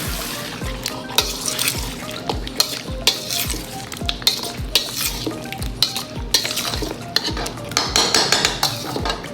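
Chicken onion karahi with cream being stirred in a pan, with steady sizzling and frying under repeated scraping and clinking of a utensil against the metal, close and busy throughout.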